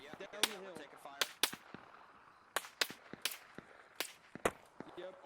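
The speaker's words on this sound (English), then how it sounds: "Down the hill. we're taking fire." Scattered gunshots in Arma Reforger, a military shooter, crack out in irregular single reports and short pairs, some near and sharp, others lighter, over a low ambient bed with a voice talking between them.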